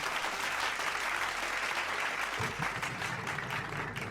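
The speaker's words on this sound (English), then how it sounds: "Clap it up, everybody, for Wavy Y." Steady, dense applause from a crowd, sustained throughout at an even loudness.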